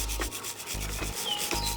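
A brush scrubs back and forth along the greasy drive chain of an electric motorcycle, loud, rough rubbing strokes repeating in a quick, steady rhythm close up, with no voices.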